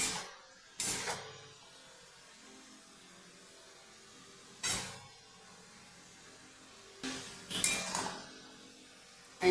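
A utensil scrapes through turmeric, salt, chili, cumin and slit green chilies in a pan with bottle gourd leaves and potatoes. There are a few separate, spaced scrapes and clinks against a quiet, low hiss.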